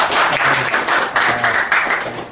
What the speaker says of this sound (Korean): 자, 여러분 박수 한번 주시죠.